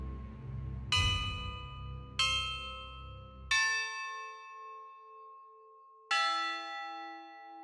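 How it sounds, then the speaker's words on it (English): A large bell tolls four times in slow, uneven succession, each loud ding ringing out and decaying into a long sustained hum, with a low rumble fading away beneath the first strikes. "a loud distinctive ding could be heard"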